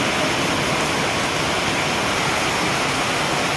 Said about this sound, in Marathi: धुवाधार मस्तपैकी पाऊस चाललेला आहे.